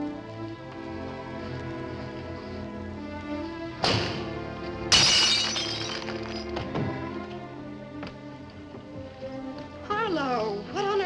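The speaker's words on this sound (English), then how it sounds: "If you break a window, if you shatter a pane of glass in the dead of night, it makes a noise." A window pane of glass shatters in a night-time film scene, a sharp crash followed by a second louder burst and tinkling fragments, set against a background of orchestral music.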